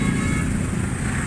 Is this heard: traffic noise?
yes